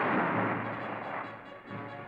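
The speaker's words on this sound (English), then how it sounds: "And 75 millimeter cannon firing from the sky can and have sunk a destroyer." A 75 millimeter cannon fires from a B-25 bomber in a loud booming blast with a rumbling roar that gradually fades over about two seconds, heard through old newsreel-style sound with no talk.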